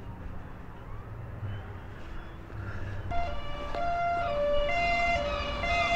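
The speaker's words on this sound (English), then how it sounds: "And what do we get? A police car." A police car siren wails in a seaside town street at sunset, starting faint and growing louder with rising and falling tones over a steady background of traffic noise.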